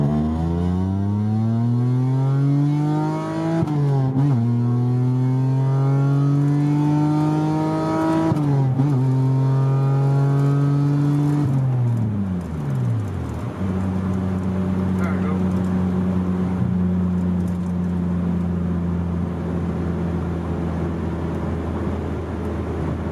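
A Hyundai Tiburon GT with a cold air intake and headers pulls hard through the gears, its loud engine tone climbing steadily in pitch, then dropping sharply at each of several upshifts before settling into a steadier drone.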